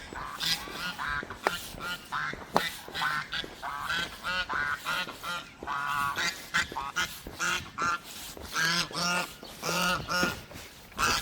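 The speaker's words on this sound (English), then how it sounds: "A goose almost killed me." A goose honks over and over in loud, close, uneven bursts, with harsh calls coming in quick succession along an outdoor walking route.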